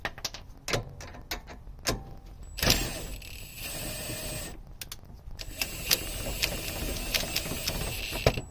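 Impact wrench bursts while fitting a rear lower control arm with a torn bushing on a 2001–2005 Honda Civic, several short rattling hits separated by pauses, close up in a garage.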